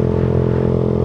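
A Yamaha New Jupiter MX motorcycle with a DBS racing exhaust idles close and loud, a steady, rough, burbling drone over a brief moment.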